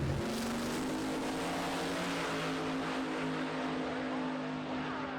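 Race cars driven from Cordova run on a track on a clear day, a steady loud engine drone with a rising tone near the start, continuous and close, with no talk.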